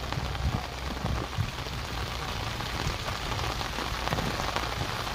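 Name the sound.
heavy rain on the Brahmaputra river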